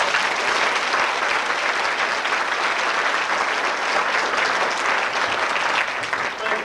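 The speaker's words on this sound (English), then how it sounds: "Let's just wrap it up by giving him one more big round of applause." A large dinner audience at a Tuskegee Airmen salute gives Justice Dennis Archer a big round of applause, loud, dense and sustained from start to finish, with no speech above it.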